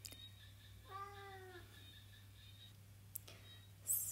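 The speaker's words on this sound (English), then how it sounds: "I have a talking cat. She likes to meow when I speak." A single cat meows once, clear and fairly close in a quiet indoor room, followed by faint small ticks and taps.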